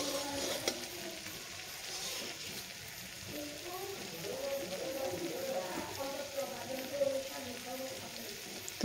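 Homemade khurma sweets are stirred into hot sugar syrup in a pan, giving a soft, steady bubbling sizzle with faint scraping of the stirring, quiet and continuous.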